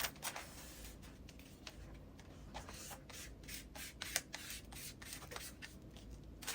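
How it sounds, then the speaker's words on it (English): A credit card rubs and scrapes in short repeated strokes, smoothing contact paper onto a Dollar Tree wire shelf, the faint swishes close up and steady with no talk. "I kept on moving the paper from the back and then smoothing it with my credit card"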